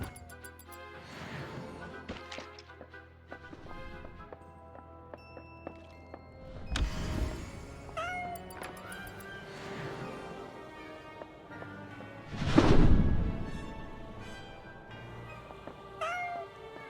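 A house cat meows several times, with a few louder, drawn-out calls standing out over a quiet backdrop of soft tonal sounds and faint knocks.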